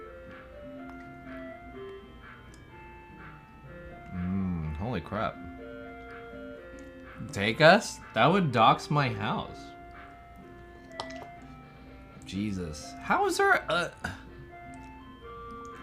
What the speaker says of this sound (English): Yeah, it's an ice cream truck.